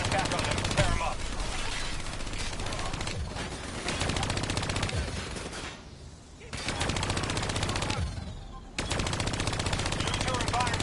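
Rapid automatic turret fire in Call of Duty Black Ops 3, loud sustained bursts of machine-gun shots with brief gaps and a short lull near the middle, all in a dense combat mix.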